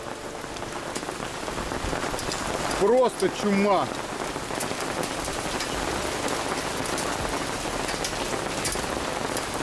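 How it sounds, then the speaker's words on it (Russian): Hail falling steadily outdoors, a dense continuous patter on surfaces with a brief burst of voices talking partway through. "Нифига себе, град пошел."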